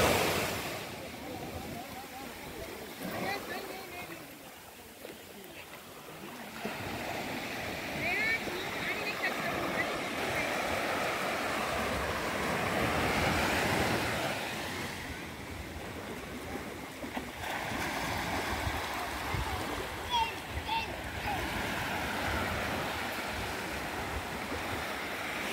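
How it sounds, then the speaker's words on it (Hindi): Sea waves roll in and break on Bhavani Beach at Mahuva, Bhavnagar, making a broad, continuous wash that swells and recedes, with wind noise and a person speaking over the surf. "ये समुंदर की लहरें देखिए आप।"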